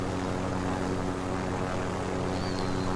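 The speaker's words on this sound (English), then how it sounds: "Okay, go in helicopter." Helicopter flying in a Call of Duty Warzone match, a steady droning rotor and engine hum running evenly throughout at moderate level with no speech.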